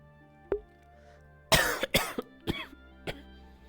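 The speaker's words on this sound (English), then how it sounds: "not coughing my lungs out is gonna be hard." A person coughs in a rapid burst of hacking coughs after a single throat clear, with a few more isolated coughs following, all loud and close.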